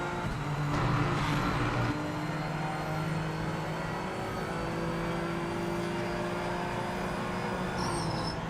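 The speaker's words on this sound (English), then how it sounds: "Hit the brakes, drop it down a gear," A racing game car's engine drops in pitch under braking, steps down a gear, then builds again as power comes back on, a steady close drone with no talk.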